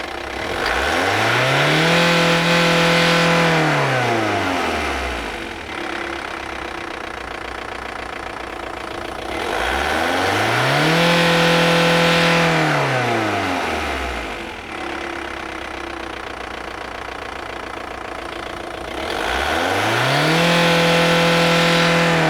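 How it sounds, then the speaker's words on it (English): A diesel car engine, held out of gear with the handbrake on during an MOT emission test, revs hard three times at regular intervals, each rise and fall returning to a steady idle between, loud and close with no talk. "if you can make sure it's out of gear, the handbrake's on, and start the engine"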